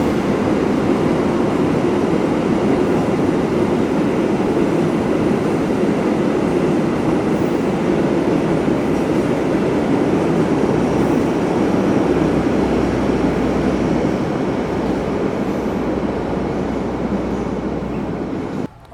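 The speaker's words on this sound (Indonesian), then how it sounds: "kereta api Harina dari stasiun Surabaya Pasar Turi tujuan Bandung" A Harina passenger train, running from Surabaya Pasar Turi to Bandung, passes close by with a loud, steady rumble and rolling roar that holds for nearly twenty seconds before tapering at the end, no voices.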